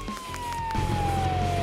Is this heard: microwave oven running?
no